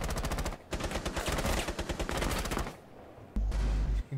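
Bursts of rapid automatic gunfire in the Rainbow Six video game, sharp repeated shots in quick strings broken by short pauses, loud and close with no talk.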